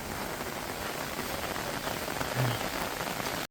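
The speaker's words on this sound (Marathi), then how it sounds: "आता पाऊस पडतो आहे" Steady monsoon rain patters densely on rice fields in the Konkan countryside, a constant close hiss with no voices, cutting off abruptly at the very end.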